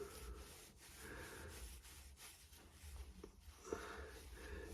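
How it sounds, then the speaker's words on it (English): Blue paper roll wipes excess grease from a sealed bearing, giving a soft, steady rubbing and scuffing sound up close. It is quiet and continuous, with a small knock near the end and no talk. "I'll just give that a quick clean up. Bit of blue roll, as I've been quite excessive"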